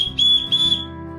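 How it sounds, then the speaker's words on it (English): A small basic whistle from a tiny survival kit blown in two short, shrill blasts, loud and close, with no talking. "Then we've got just a very basic whistle."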